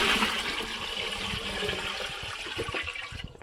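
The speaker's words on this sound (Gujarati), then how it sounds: "બસો લીટર પાણીમાં આપણે પંદર લીટર પપૈયાનું જૈવિક રસાયણ એડ કરી દીધું છે" Papaya bio-fertilizer liquid pours steadily into a 200-litre water barrel, a continuous splashing gush close to the microphone that tapers off at the end, with no talk.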